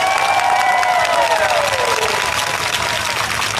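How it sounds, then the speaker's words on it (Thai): Crowd at an anti-government political rally in a Bangkok park applauding loudly and steadily throughout, with some cheering and a fairly continuous wash of clapping, while a voice can be heard through it. "ขอเสียงปรบมือให้พี่ป้านะฮะทุกคน"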